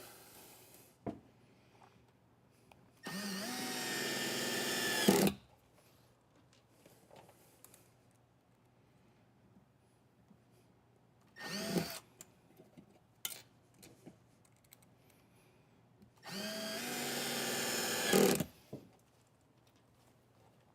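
A Milwaukee M12 cordless drill driving screws whirs in three short bursts a few seconds apart, close by, with quiet clicks and handling noises in between.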